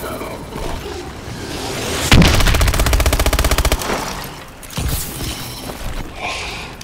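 Loud video game gunfire: a fast burst of automatic shots lasting about one and a half seconds. Shorter bangs and mechanical clicks follow it over busy game background sound.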